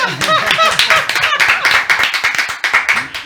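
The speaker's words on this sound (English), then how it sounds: "Come on, somebody clap" Scattered clapping from a small audience, mixed with prominent speech and laughter-like voices throughout, the claps quick and uneven rather than a full ovation.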